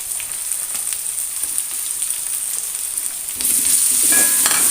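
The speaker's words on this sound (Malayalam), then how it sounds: "ഒരു സവാള പൊടിയായി അരിഞ്ഞതും ഇട്ട് കൊടുക്കുന്നുണ്ട്." Chopped onion and green chillies sautéing in a pan for a dal and spinach curry, a steady close sizzle and crackle with no talk that grows louder and hotter over the last second or so.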